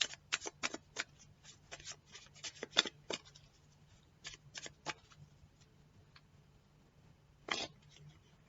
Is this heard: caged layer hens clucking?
no